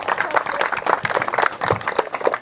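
A crowd claps steadily at an outdoor children's fishing competition prize-giving, the dense patter of many hands sustained throughout and moderately loud.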